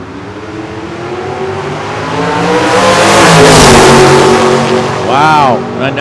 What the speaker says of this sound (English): Little Chevy, big Chevy, and it's the 57 Chevy Bel Air of Randy Arms